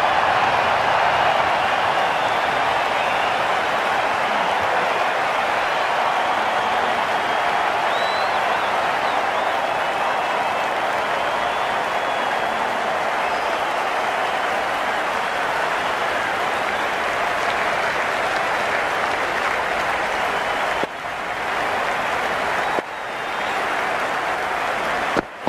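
A cricket crowd at an India vs Australia match applauds a powerful shot, a dense, steady wash of clapping and cheering that holds for over twenty seconds before thinning and wavering near the end.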